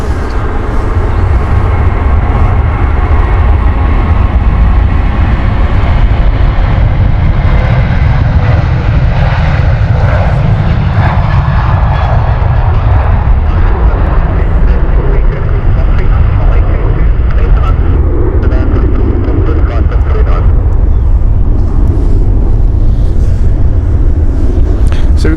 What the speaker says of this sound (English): We have a private jet taking off in a moment.